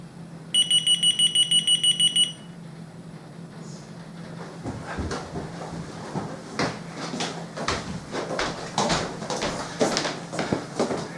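A UHF key finder alarm gives a rapid series of high electronic beeps for about two seconds, distant and tinny from a basement, followed by quiet rustling and footsteps in a room.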